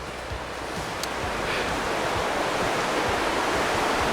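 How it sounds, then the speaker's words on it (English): A miniature waterfall in a river cave rushes in a steady, loud, close wash of falling water, alone with no voices. "Miniature waterfall."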